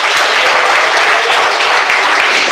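A church congregation clapping, dense, loud and continuous applause from many hands filling the space evenly with no voices standing out.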